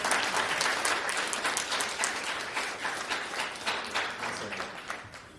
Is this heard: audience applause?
yes